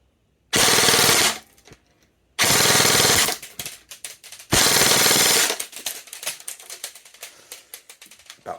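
Double Bell 804S SCAR-H airsoft rifle with an 11.1 V battery firing full auto in three loud, rapid bursts close to the microphone, the last trailing off into scattered clicks and handling noises.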